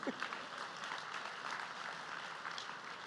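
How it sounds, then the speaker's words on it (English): Steady clapping from a crowd fills the whole stretch, a dense, even patter of many hands with no pauses. "The one Sardarji in the room is clapping."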